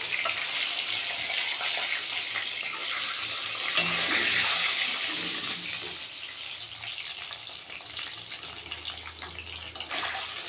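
An egg hits hot oil and fries with a steady, close hiss and crackle, cooked as part of a potato and cauliflower egg curry, continuous throughout with no talking.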